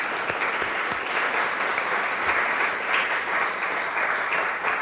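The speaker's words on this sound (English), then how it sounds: "let's have a round of applause for our new artist" Steady, full applause from an audience at an art auction, close and continuous for the whole stretch with little else heard.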